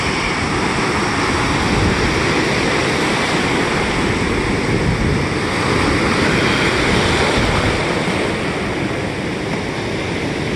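Ocean surf breaking at Virginia Beach in spring makes a loud, continuous roar of churning water, dense and unbroken, with wind buffeting the microphone throughout and no voices.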